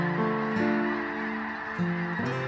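Migrating wetland birds in Nebraska give loud honking calls, overlapping goose-like honks repeating in a dense chorus nearby with no talk.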